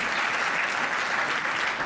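Students in an offline coaching class clap loudly to welcome toppers of the exam, a brief, thick burst of continuous applause from a packed room with no talk over it.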